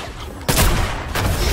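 Two sharp gunshots from a long-distance trickshot in a video game, the first around the middle and the second near the end, each a loud broadband burst ringing over steady game background.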